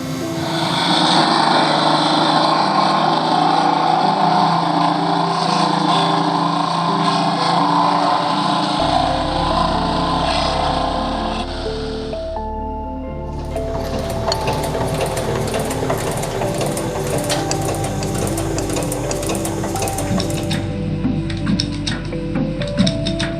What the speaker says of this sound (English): I still need to grind the welds off.